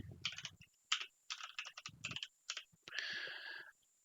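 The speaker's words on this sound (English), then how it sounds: "And now you type in your Windows password here" Someone types a Windows password on a computer keyboard, producing bursts of close, crisp key clicks in an irregular rhythm with short pauses, and a longer run of rapid clatter near the end.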